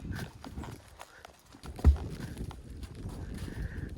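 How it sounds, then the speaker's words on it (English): Horse walking a muddy woodland trail at Mammoth Cave, steady close clip-clop of hooves in an even rhythm with soft squelchy thuds, one heavier step standing out, over faint outdoor ambience. "it's been a long time since I've went on a trail ride by myself"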